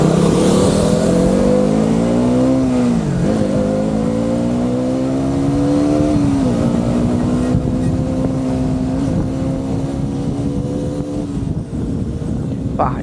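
A KTM Duke 200 motorcycle accelerates hard on the road, its engine note climbing in pitch through several gear shifts before holding a steady high whine, loud and close with wind buffeting the microphone.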